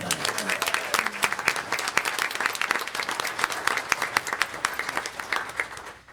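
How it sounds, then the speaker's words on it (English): Audience applause at a school board meeting for students, a dense run of claps in a room that holds steady and starts to fade near the end. "Let's give another round of applause for these wonderful Panthers"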